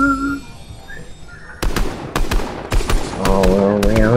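Rapid bursts of gunfire from a weapon in Fortnite, several loud cracks and rattling volleys starting a moment in, mixed with game sounds and a talking voice.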